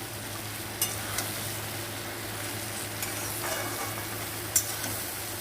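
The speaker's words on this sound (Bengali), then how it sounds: "নেনুয়াটা দিয়ে দেবো এবার সুন্দর করে নেড়ে চেড়ে" Ridge gourd fried in a pan and stirred, giving a steady low sizzle with a few sharp scrapes of the spatula, fairly close and without talk.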